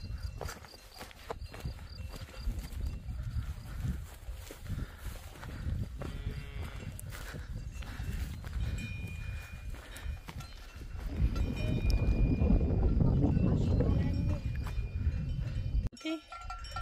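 Cows graze on an open pasture of the Causse Méjean, with steady dull hoof steps and knocks and occasional cowbell clanks, growing louder and busier toward the end as the animals come closer.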